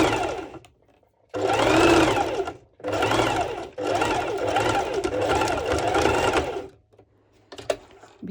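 A sewing machine stitches a ruffled lettuce edge on the elastic of a triangle bikini top, running slowly in several steady bursts of rhythmic whirring, close and clear, with short pauses between runs.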